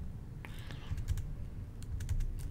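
A name typed on a computer keyboard, quiet scattered key clicks in small irregular clusters over faint background noise, with no talking.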